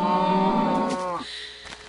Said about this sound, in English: Okay, right by a cow.